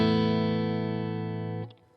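Clean electric guitar tone played through a Kemper profiler with no chorus, a single sustained chord ringing steadily for about a second and a half before being cut off and fading into faint decay.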